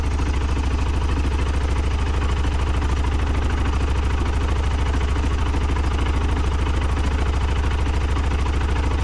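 A BMW F650GS Dakar motorcycle engine idles steadily after an oil and filter change, a close, continuous loud thrum with an even pulsing beat throughout.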